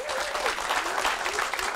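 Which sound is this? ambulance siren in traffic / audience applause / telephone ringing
audience applause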